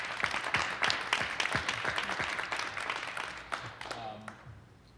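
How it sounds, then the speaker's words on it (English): Audience applause at a food drive event, a loud wash of clapping with a few sharper claps that gradually thins and fades toward the end. "So I know we've already given him a round of applause, but I think he deserves it again."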